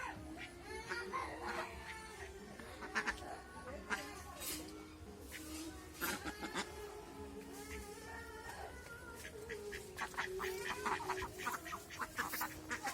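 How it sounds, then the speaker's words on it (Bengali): Ducks quacking in a Bangladeshi village on a sunny day, a busy flock calling repeatedly at moderate distance amid ambient village noise and scattered voices. "দেখেন কি সুন্দর হাঁসগুলো"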